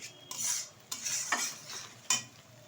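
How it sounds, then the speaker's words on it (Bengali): Spice masala with salt and a little water being sautéed in a pan for egg curry, short bursts of sizzling hiss with a few scraping stirs and clinks, close and fairly loud. "ভালোভাবে একটু কষিয়ে নেব মশলাটা"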